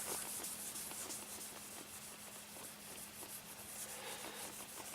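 Polish is rubbed by hand into a Royal Enfield motorcycle, giving a steady, close, soft rubbing and swishing with no talk.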